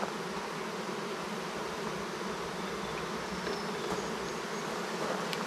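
Honeybees in a nuc hive keep up a dense, steady buzzing hum, close and even throughout with no pauses.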